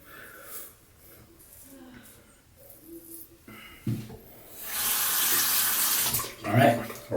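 A tap runs into a sink while a Rockwell 6c safety razor head is rinsed, with a brief voice and handling sounds first, then a loud, steady rush of water that swells near the end.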